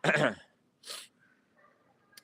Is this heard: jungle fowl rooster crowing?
no